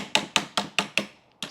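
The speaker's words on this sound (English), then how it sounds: "we're just going to use our roll pin punch and a little ball peen hammer" Little ball peen hammer rapping a roll pin punch while driving a pin out of a Ruger American Gen 2 rifle: five crisp, ringing metal taps in steady rhythm, a short pause, then one more, close up.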